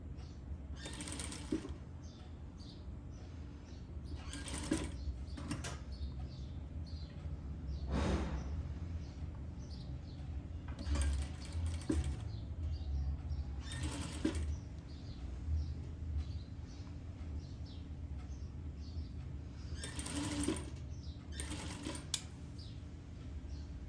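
A sewing machine stitches pom-pom trim onto a knit bib in short bursts of fast, even mechanical whirring, separated by quiet pauses with faint handling clicks, close and fairly soft against a low steady hum.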